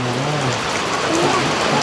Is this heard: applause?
no